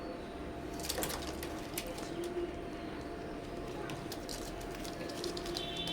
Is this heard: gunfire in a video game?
no